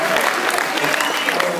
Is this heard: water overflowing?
no